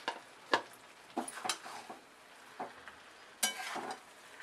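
Cooked chicken fried rice being stirred and mixed in a pan, a series of scattered, fairly quiet scraping and clattering strokes with short gaps between them.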